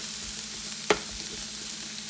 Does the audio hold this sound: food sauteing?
yes